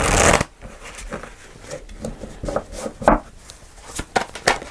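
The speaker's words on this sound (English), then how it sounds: "Let's just shuffle one more time." A deck of tarot cards is shuffled by hand in a quiet room, with a quick riffle at the start followed by a series of soft, irregular flicks and taps, close and fairly faint.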